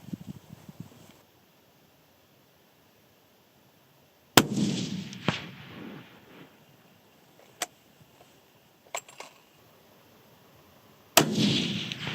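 Rifle shots fired at rock targets at a distance while hunting whitetail and mule deer in Montana, several sharp separate cracks with quiet gaps between them, close and loud against a still outdoor background.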